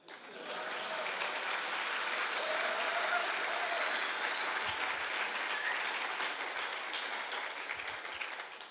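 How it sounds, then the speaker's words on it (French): Applause from a church congregation for the sound technicians fills the hall as a dense, steady wash of many hands clapping, sustained for about eight seconds at a moderate distance. "Acclamez les techniciens"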